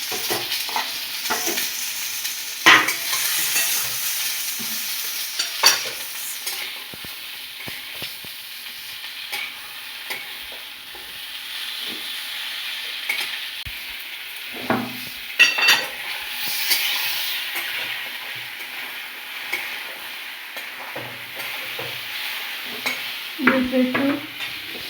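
Fried fish and chopped amaranth stems hiss steadily in an oily pan for a red amaranth greens chorchori, with intermittent clacks and scrapes of a spatula against the pan over the sizzle.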